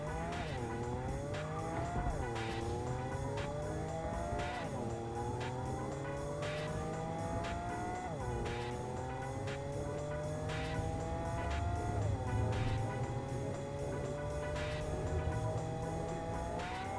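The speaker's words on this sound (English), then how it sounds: "Car engine noise is starting to tire me." Car engine droning and revving with rising pitch sweeps and intermittent tire squeal in the video game Cyberpunk 2077, steady and continuous throughout with no talk.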